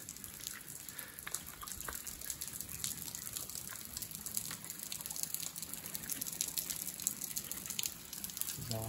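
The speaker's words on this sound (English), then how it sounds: "I hear a waterfall ahead." A mountain waterfall splashes and rushes in a constant, even wash of water noise, steady and fairly close throughout.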